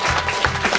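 A classroom breaks into a brief burst of clapping for a student who won Classroom of the Month. It is dense and close, with a faint voice underneath.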